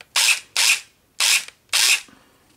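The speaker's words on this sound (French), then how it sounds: "le petit bruit aigu qu'à la fin, c'est l'active braking en fait" An active braking system on a just-installed ASCU unit gives four short, bright, high-pitched whirring bursts, evenly spaced at close range with pauses between them and no voices.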